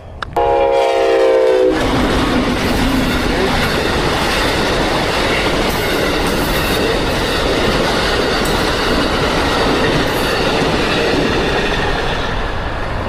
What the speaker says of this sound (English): And there's definitely a train coming.